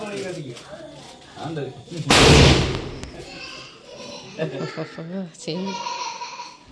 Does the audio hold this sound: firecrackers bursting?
yes